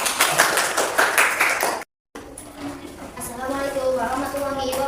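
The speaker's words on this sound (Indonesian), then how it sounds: "Kasih tepuk tangan." Classroom applause at an Islamic school lesson after a group's Quran recitation, a burst of clapping that cuts off abruptly, followed by a voice speaking.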